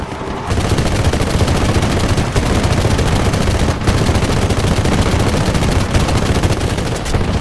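Sustained machine gun fire from an aircraft in the War Thunder flight combat game, a loud continuous rattling burst running almost the whole time after a brief quiet start, with only slight dips.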